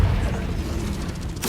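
A Confringo fire spell from the Hogwarts Legacy video game blasts with a booming low rumble, and a sharp burst of impact follows at the end.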